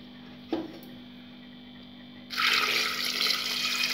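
Water pours steadily into a metal pressure cooker holding jackfruit seeds, a rushing splashing flow starting after a brief clunk and continuing to the end; a low hum runs underneath.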